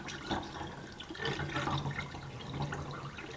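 Liquid poured into a cabin sink's drain trap to push out the water, a steady gurgling splash and trickle lasting a few seconds, close and moderately loud with no talking.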